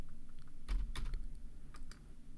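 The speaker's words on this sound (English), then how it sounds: "you could type VG on your keyboard" A few quick keystrokes on a computer keyboard, soft close clicks tapping out a short two-letter shortcut in a quiet room.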